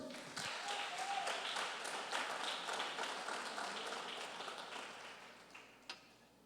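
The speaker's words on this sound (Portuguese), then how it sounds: "Vamos aplaudir o Senhor?" A church congregation applauds throughout, a dense, steady wash of clapping that carries evenly from start to finish.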